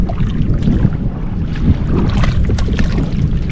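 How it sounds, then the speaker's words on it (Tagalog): Strong wind at sea buffets the microphone over the rumble of a boat engine and splashing water, loud and continuous throughout. "medyo malakas yung hangin"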